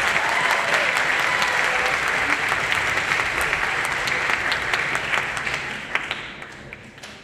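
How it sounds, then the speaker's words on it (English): Audience at a school band concert gives sustained, dense clapping at full strength. It begins to taper and thin out toward the end, with a few stray claps. "give them a round of applause"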